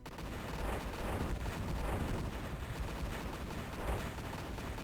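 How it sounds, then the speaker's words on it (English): Rocket sleds fire on a tank in the strategy game Imperium Galactica, a dense, continuous roar of gunfire and explosions that rumbles steadily throughout without pause. "Not that tank, but the rocket sleds hit this one."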